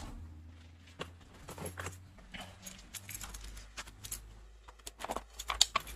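Keys jangle and clink in scattered bursts close by while working on motorcycle wiring, small metallic rattles that grow busier toward the end over a low background hum, with no talking.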